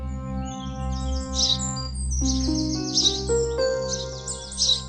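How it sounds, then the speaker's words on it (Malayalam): A rare bird in a cartoon chirps in bright, quick repeated trills, several bursts over a sustained musical background tone, clear and close with no talking. "അതൊരു അപൂർവ ഇനം പക്ഷി തന്നെ"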